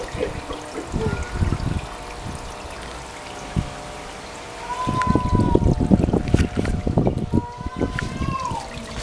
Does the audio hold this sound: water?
yes